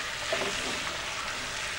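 Cubes of pork searing in hot butter and oil give a steady, soft sizzle that stays even and fairly quiet throughout, with no talking.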